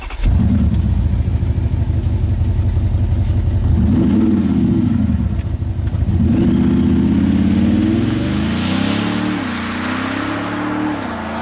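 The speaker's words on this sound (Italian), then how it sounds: "andiamo a guidare su strada quest'Audi SQ7" An Audi SQ7 with a 435-horsepower engine pulls away on a public road, its engine droning loudly up and down through several rising revs and gear changes, heard from inside without talking.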